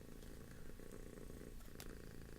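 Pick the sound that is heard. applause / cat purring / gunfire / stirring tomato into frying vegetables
cat purring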